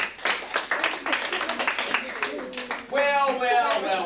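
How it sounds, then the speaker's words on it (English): Audience applause breaking out after a call for a round of clapping at a school presentation, dense clapping mixed with cheering and voices, swelling louder toward the end. "Let's have a big round of applause."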